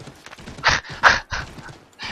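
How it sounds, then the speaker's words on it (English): Hooves clop in an irregular galloping rhythm as a horse runs in the video game Assassin's Creed 3, with several loud thuds over a rumbling background, heard close and without speech. "This horse turns really well."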